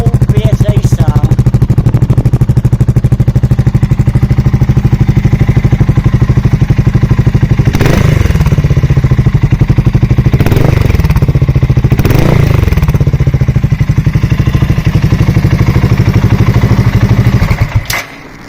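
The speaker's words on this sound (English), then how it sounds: "just listen to that. If that's not an old BSA sound." Old-style BSA 650 Gold Star single-cylinder motorcycle engine, its exhaust modified with drilled holes, thumping steadily and loud at idle with a few sharp blips of the throttle, then cutting off at the end.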